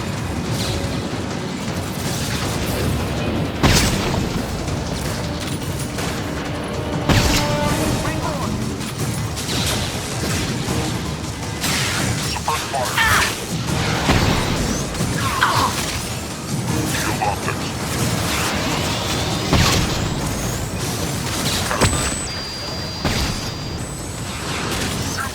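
Combat in the Mass Effect 2 video game: a dense, continuous barrage of weapons fire, crashes and booming explosions, loud and steady throughout, with voices speaking intermittently over the chaos.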